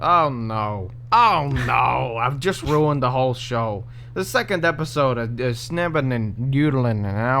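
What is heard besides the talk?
No distinct noise like a dog, phone or traffic.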